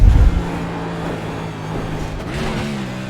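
A NASCAR race car engine in the iRacing sim on the Chicago street circuit, heard loud and close as the driver crams it down into first gear, a sharp low blip at the start, then a steady droning engine with pitch rising toward the end.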